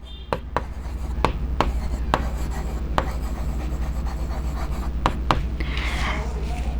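A teacher writes an example on a board during an English grammar lesson, producing a series of sharp, irregular taps and scratches over a steady room hum.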